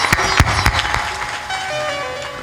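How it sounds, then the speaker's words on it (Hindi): Audience at a religious satsang gathering clapping to welcome a member of parliament, a dense steady burst of applause filling the short moment. "ताली बजा दो एक बार उनके स्वागत"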